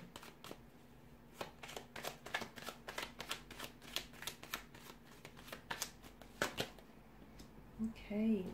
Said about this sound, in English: So I'm going to give the cards a shuffle and see what's coming up for you.